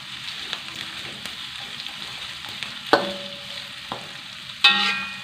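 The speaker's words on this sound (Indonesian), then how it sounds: "Tumis sampai aromanya naik sahabatku." Ingredients sautéing in a pan for chicken and oyster mushroom rice porridge, a steady sizzle with scraping stirs and a couple of sharper clinks of the spoon against the pan.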